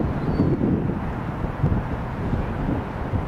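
Wind of around 6 to 8 knots gusting to 10 while sailing on a lake, heard as a steady low rumbling buffet across the microphone, constant and fairly loud with no voices.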